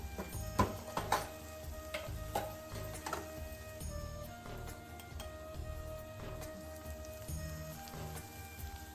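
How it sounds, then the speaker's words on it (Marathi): Onion, tomato and garlic sautéing in a pan for a vegetarian thali, a soft continuous sizzle with scattered clinks and stirring scrapes, fairly quiet and close, without talk. "कांदा टोमॅटो लसूण छान असं परतून झालाय"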